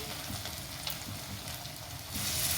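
Chicken pakoras dropped one by one into hot white oil sizzle with a steady, dense crackle that swells louder near the end.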